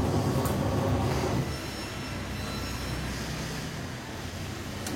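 An Aqua QW-7031HT twin-tub washing machine spins steadily with a continuous broadband whirring rumble, slightly louder at first then settling into an even hum, close by with no talk.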